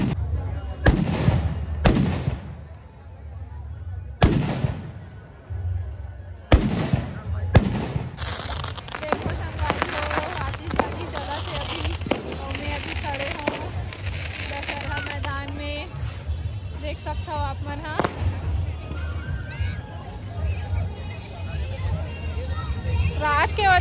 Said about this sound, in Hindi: बहुत फटाका फूटा संगवारी हो,